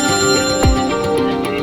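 An incoming phone call rings with a loud, close electronic ringtone, a repeating melodic tone pattern with a brief swooping note in the middle, no voices over it.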